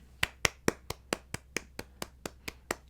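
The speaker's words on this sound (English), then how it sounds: "I want to clap for you guys." A single pair of hands claps eleven times in a steady, evenly spaced rhythm, each clap crisp and close, with a faint low hum underneath and no talking.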